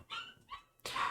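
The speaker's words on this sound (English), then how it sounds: "If you hear the dog in the background, you must excuse him." A dog barking excitedly in the background indoors, three short sharp yips in quick succession, the last one loudest.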